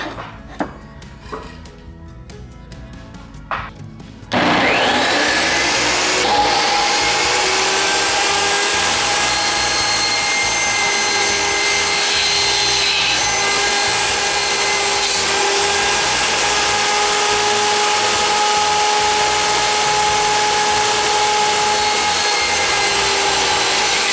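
Power tool cutting a wooden 2x2 to length for a cold frame: after a few quiet handling knocks, a loud, sustained whining cut kicks in and drones steadily to the end.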